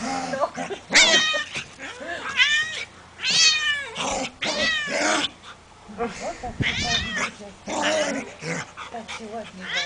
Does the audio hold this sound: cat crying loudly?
yes